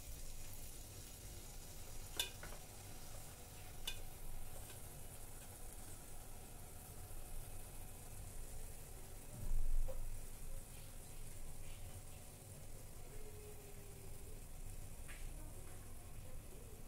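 Spoonful of batter dropped into hot oil as a test for eggplant beguni, a low steady sizzle with a few sharp crackles and a brief louder bubble partway through, all fairly quiet.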